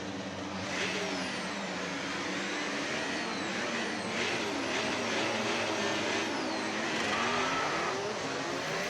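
Formula 1 cars in a racing video game roll away on the formation lap on medium tyres, producing a continuous, loud engine drone with shifting whine tones that holds steady throughout with no speech.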